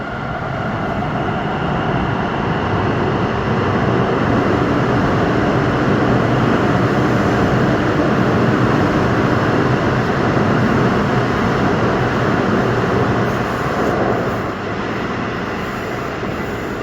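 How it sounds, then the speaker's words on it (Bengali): A Kolkata underwater metro train pulls out from the platform with a loud, continuous roar of wheels and motors that holds steady throughout and eases slightly near the end, with no speech. "ট্রেন ছেড়ে দিল।"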